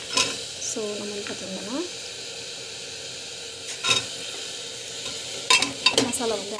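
Tomato puree sautéing in a pan for a village-style brinjal and field bean gravy, a steady sizzle with a few scraping stirs of a spatula and short tapping clinks, loudest near the end.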